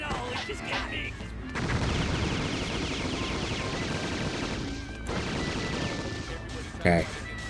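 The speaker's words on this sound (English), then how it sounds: "Okay, back to heavy machine gun." Sustained heavy machine gun fire in a video game, a dense continuous roar of rapid shots that breaks off briefly around the middle and resumes, with a short sharp burst near the end.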